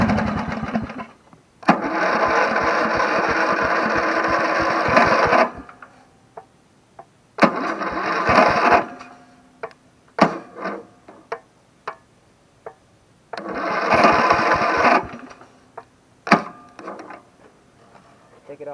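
Cheap $50 lawn mower engine sputtering into life, with several bursts of loud, rapid small-engine firing that cut out between stretches of clicks, knocks and handling noise.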